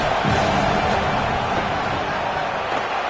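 Stadium crowd at an American football game roaring to rattle a field goal kicker, a loud, steady wash of massed voices with no pauses.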